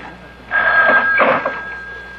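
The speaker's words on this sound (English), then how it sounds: "the phone was ringing" A telephone rings with a bright electronic trill, one burst of ringing over a quiet room, fairly close and clear.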